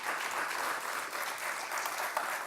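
Audience applauding a distinguished panel at a tax conference, an even wash of many hands clapping at moderate, somewhat distant level with no talk over it.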